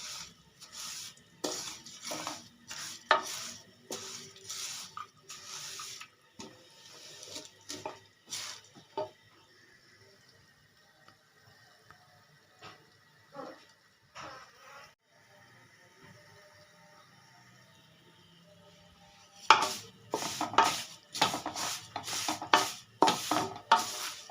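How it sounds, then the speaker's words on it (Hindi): Vermicelli being stirred and roasted in a pan, heard as a series of sharp scraping and clinking spoon strokes in bursts, a quieter lull in the middle, then a dense run of close, rhythmic stirring at the end. "सेवइयों को घुमाते रहें जब तक ये इनकी खुशबू आ जाए"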